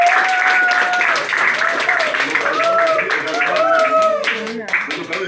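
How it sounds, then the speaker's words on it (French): Audience applauding the COSA health committee members who vaccinate, at an official ceremony at a health centre; sustained clapping runs throughout under a speaker's amplified voice. "applaudissez pour les COSA qui vaccinent"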